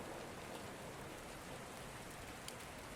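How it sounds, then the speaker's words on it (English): Gentle rain falls in a soft, even hiss, steady and quiet throughout with an occasional slightly sharper drop standing out. "the gentle rain will keep you company a little longer"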